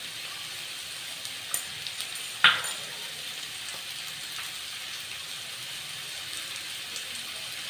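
Tomatoes and onion sauté with turmeric and salt in a pan, making a steady, soft sizzle with a faint crackle throughout and one brief sharper pop.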